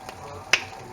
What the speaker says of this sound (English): I should be able to snap my fingers once I've messed with it.